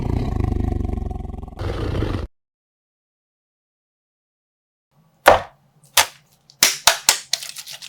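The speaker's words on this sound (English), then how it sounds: "Wow, a leopard." A leopard gives a loud, rasping roar for about two seconds. After a silence comes a series of sharp, sudden clicks and knocks.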